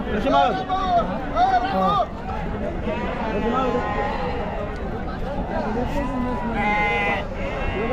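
Several sheep bleat repeatedly at a livestock market in Chakan, Maharashtra, some close and some farther off, over a murmur of people talking and general outdoor bustle.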